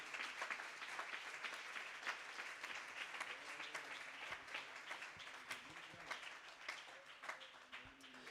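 A church congregation applauds during a sermon, with scattered and fairly faint hand clapping in an uneven rhythm and a few murmuring voices underneath.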